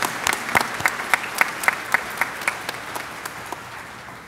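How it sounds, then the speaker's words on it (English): Applause at a college commencement ceremony, a crowd clapping steadily for several seconds then gradually thinning out as it fades. "let's give him one more round of applause for such an amazing feat"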